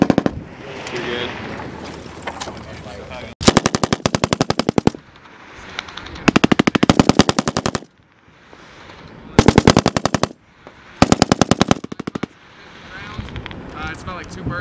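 A US Military Mk 19 grenade launcher firing several loud, rapid bursts of thumping shots, with wind noise and voices in the pauses between them.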